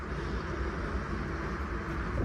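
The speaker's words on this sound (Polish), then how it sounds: "Przepraszam za hałasy w tle, suszarka, pralka." A steady, low mechanical rumble and whir of a tumble dryer and washing machine running continuously in the background, with no voices.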